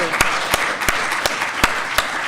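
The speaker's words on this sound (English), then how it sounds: "I think he deserves an extra round of applause for trying." Steady crowd applause with scattered sharp claps popping out above the wash, continuous and fairly close, no voices.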